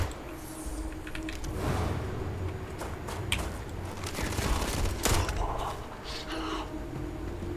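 Gunfire in the space game Starfield: scattered shots and rapid bursts over a steady background hum, with mechanical clicks mixed in, fairly close and continuous throughout.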